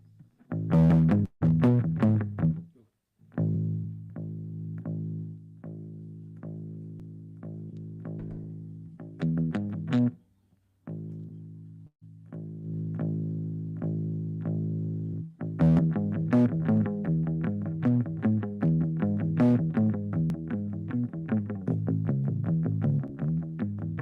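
A Hofner bass plucked with palm muting through an overdriven guitar amp, giving short, thumpy, dampened notes in a steady repeated rhythm, loud and close with brief pauses between phrases, no talking.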